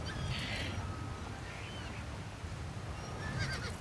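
A horse whinnies in the video game The Elder Scrolls IV: Oblivion Remastered, short high neighs near the start and end over a steady low rumble of game ambience.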